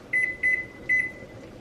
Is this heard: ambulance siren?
no